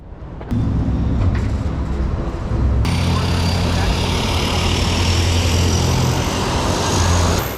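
Inside a three-year-old Cessna Grand Caravan EX turboprop, the engine drones steadily and loudly, jumping to a fuller, brighter roar partway through as power comes up, with a constant low propeller hum beneath.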